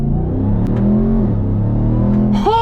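A deep RAM TRX pickup truck engine, about 6,400 pounds, rumbles and revs, pitch shifting through gears as it accelerates, loud and close, ending in a sharp rising roar.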